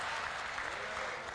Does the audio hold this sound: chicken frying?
no